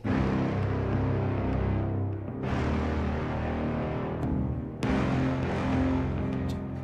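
A dense, loud orchestral loop with deep sustained bass and full harmonic layers, swelling and restarting with sharp hits, playing alone.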